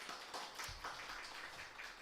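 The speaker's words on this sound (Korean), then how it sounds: "우리 정상진 선교사님 나오실 때 우리 환영의 박수 한번 드릴까요?" Church congregation applauding a missionary in welcome, a steady wash of many hands clapping at a moderate distance, continuous for the whole stretch with no voices over it.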